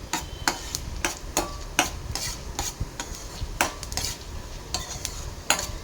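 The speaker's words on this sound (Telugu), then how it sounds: "ఆయిల్ హీట్ అయ్యాక కొద్దిగా మినప్పప్పు, జీలకర్ర, ఆవాలు, పోపు దినుసులు అన్నీ వేసుకొని చక్కగా కలుపుకోండి." Urad dal, cumin and mustard seeds are stirred in hot oil for a tempering, giving soft sizzling under sharp, irregular clinks and scrapes of a spoon against the pan, close and fairly quiet.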